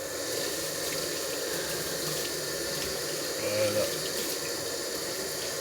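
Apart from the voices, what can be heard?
tap water rinsing salt off salmon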